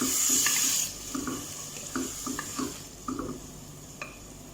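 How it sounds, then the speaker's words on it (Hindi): Spice masala with half a cup of water being stirred and fried in a pan for masala khichdi, with repeated scraping stir strokes over a wet sizzle and water noise, fairly close and without talk. "ठीक है, मसाले को भूनते हैं।"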